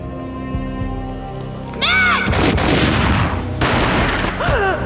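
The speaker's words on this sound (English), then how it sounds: "A gunshot boomed and she fell down in slow motion." Gunfire in the Max Payne video game: a sudden loud burst of shots and crashing action breaks over a quieter stretch with a brief vocal cry, then continues as dense, sustained noise alongside another cry.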